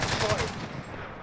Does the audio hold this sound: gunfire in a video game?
yes